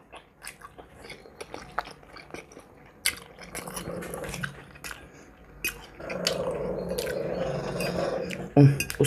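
Loud, close chewing and biting of fried sausage and pasta during a mukbang, with wet squishy mouth sounds in irregular bursts that grow busier toward the end.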